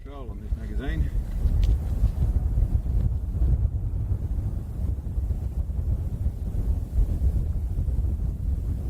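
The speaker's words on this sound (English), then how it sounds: "As all the wind settles down" Wind gusting across an outdoor rifle range, a low rumbling buffet on the microphone that swells and eases continuously, with a voice speaking briefly at the start.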